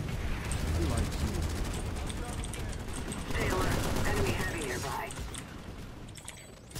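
Bursts of automatic weapon fire from the Razor, an NC weapon in PlanetSide 2, crackle steadily through a busy battlefield din with a voice talking over it, loudest in the middle stretch before easing off.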